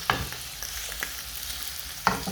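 Carrots, cardamom seeds and cloves cook in a pan with a soft, steady sizzle, punctuated by a couple of sharp utensil clinks against the pan.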